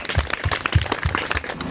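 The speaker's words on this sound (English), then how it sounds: "Give her a clap." Clapping from a group at a school breaks out for a schoolgirl, a fairly loud, irregular burst of hand claps lasting under two seconds with no talk over it.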